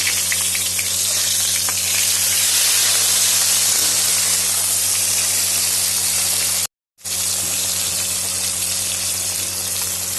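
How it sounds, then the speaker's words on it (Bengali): Fish fries in hot oil in a kadai, giving a loud, continuous hissing sizzle that cuts out briefly once before resuming. "মাছ ভেজে নিচ্ছি।"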